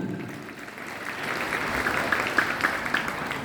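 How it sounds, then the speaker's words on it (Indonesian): Crowd applause at a Quran memorization graduation ceremony in Bireuen, a dense steady wash of clapping that builds slightly and holds, a few sharper claps standing out near the end. "Tepuk tangan sekali."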